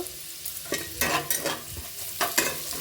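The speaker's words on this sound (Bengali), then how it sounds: "তেলের মধ্যে দিয়ে দিচ্ছি আমি পেঁয়াজ পেঁয়াজটাকে আমি এবার হালকা করে ভেজে নেব" Onions frying in oil in a wok, a close sizzle with repeated scraping stirs of a spatula, no voices.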